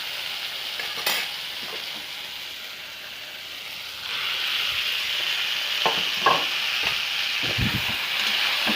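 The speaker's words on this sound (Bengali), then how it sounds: "বেগুনগুলো এটা দিয়ে ভালো করে নাড়াচাড়া দিয়ে দিচ্ছি।" Fried brinjal is stirred into oily frying masala for a Bengali fish curry, producing continuous sizzling that swells louder partway through, with scattered scraping and clinking of a spatula against the pan.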